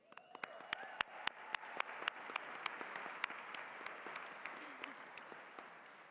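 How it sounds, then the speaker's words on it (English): A crowd at a Christmas ball applauding the musicians steadily, with a few sharp individual claps standing out over the dense patter, moderately distant and fading slightly toward the end. "Now let's give another big round of applause for the musicians tonight."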